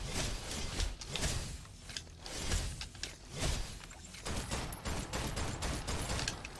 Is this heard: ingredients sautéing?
no